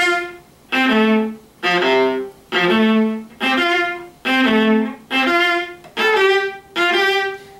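A bowed string instrument plays alone, repeating notes in a dotted long-short rhythm with a slight accent on each long note.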